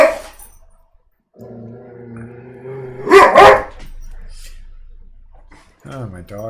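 Pet dogs barking in a sudden pair of loud, sharp barks close by, with steady background hum and people talking before and after.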